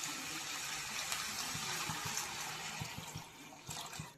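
Steady rushing water pours continuously into a cooking pot of whole masoor lentils, with a few faint clinks and knocks partway through; no voices.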